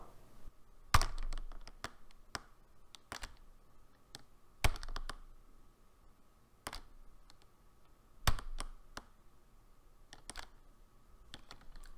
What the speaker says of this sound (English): you can hear my keyboard when I press D now